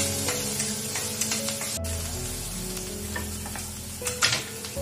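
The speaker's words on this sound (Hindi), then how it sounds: "इसमें हम लोग एक प्याज देंगे, थोड़ा सा सौते करेंगे" An onion sautés in a pan with ginger, giving a soft continuous sizzle under a low background hum, with occasional stirring scrapes and a brief sharp click, close by and without speech.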